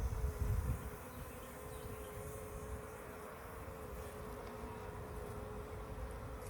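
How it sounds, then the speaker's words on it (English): A dense, constant drone of many honey bees buzzing inside a hive, close and unbroken throughout. "Nice hive of bees."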